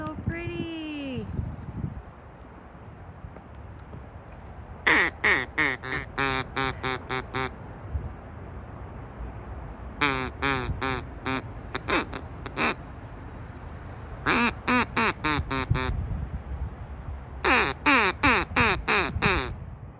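A duck making chattering, talking calls outdoors, repeated bursts of rapid raspy quacks coming in several clusters, loud and close, with a short stretch of human voice at the start.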